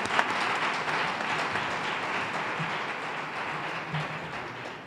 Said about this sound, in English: So let's have another round of applause for Boston Properties.